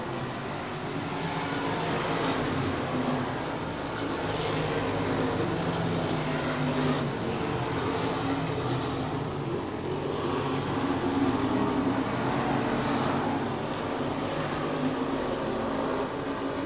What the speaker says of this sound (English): hot lap session number 1 for the USRA stock cars will end